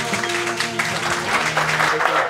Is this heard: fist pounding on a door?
no